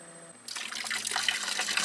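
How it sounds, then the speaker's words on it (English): Water splashing and gushing from an RPS solar pump, starting abruptly after a short quiet hum and continuing as a steady, close, bright rushing flow. "Pump is clearly moving some water."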